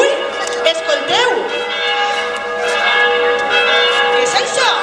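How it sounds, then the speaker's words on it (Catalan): Church bells of Meliana ringing continuously at a moderate distance, a dense layered clangour of overlapping tolls, with faint voices talking beneath. "Les campanes de Meliana."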